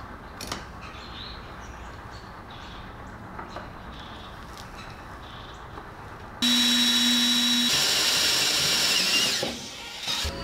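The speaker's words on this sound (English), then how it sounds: "With each of the 3 holes drilled" A power drill drills holes in metal, whirring steadily for about three seconds over quiet background noise, its motor tone high and loud, then winds down.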